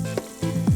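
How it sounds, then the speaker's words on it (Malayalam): Cornflour-coated chicken pieces deep-fry in hot oil for sweet and sour chicken, giving a brief, close sizzle with bubbling bursts. "നല്ല ക്രിസ്പി ബ്രൗൺ ആയിട്ട് വറുത്തെടുക്കണേ."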